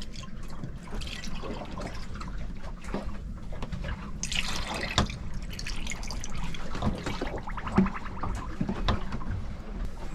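Coolant pours and trickles into a sailboat engine as it is topped off aboard in Mexico, giving soft intermittent liquid splashes and drips mixed with handling clatter at close range, without speech.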